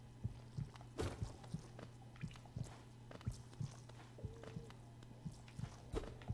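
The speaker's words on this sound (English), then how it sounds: "It's interesting that there's a heartbeat sound here." A heartbeat in the Hollow Knight video game thumps as low, soft, evenly spaced beats under a faint game ambience, with no talking.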